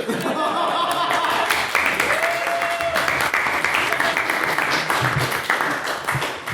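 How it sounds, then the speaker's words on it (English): Steady audience applause fills the room at a debate event, dense clapping from many hands with some chuckling and a few voices mixed in, sustained throughout. "I'd like you all to give a massive hand and congratulations to Karen Gormley."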